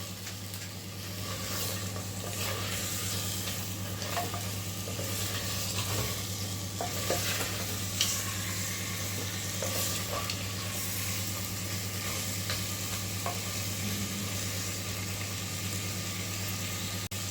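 Crab being stirred with spices in a sizzling pan, a continuous hiss and crackle overlaid with repeated scraping of a spatula, close and steady, with a constant low hum underneath and no speech.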